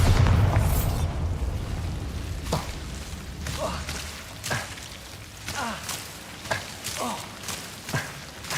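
Bombarda spells explode in Hogwarts Legacy: after a heavy opening boom, a series of punchy bursts and thumps follows at a steady pace, each with a short whooshing tail, moderately loud.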